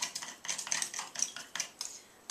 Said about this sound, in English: It says it may take a moment or 2 of stirring